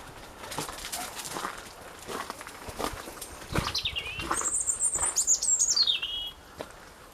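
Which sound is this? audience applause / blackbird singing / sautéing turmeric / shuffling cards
blackbird singing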